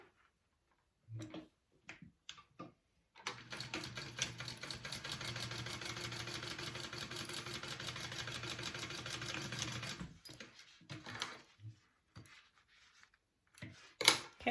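A sewing machine runs steadily for about seven seconds, stitching fabric bag pieces at a 3/8 inch seam allowance, a fast, even mechanical whirr with rapid ticking, framed by quiet handling clicks and taps before and after.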